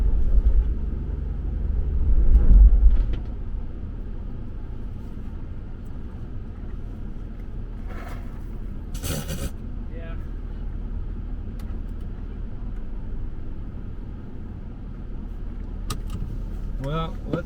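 A car engine rumbles and revs in low, uneven surges while the vehicle is stuck and trying to back out, loudest near the start, with brief higher bursts partway through.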